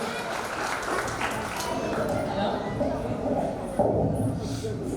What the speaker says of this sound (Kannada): ಒಂದು ಅಮ್ಮರಿಗೆ ಜೋರದ ಚಪ್ಪಾಳೆ